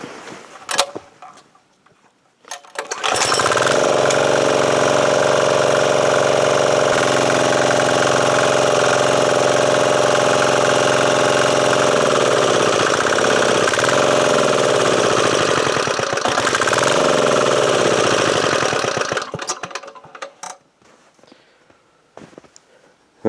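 A warm small 168F diesel engine starts, idles loudly and steadily with a knocking clatter for about sixteen seconds, then shuts off.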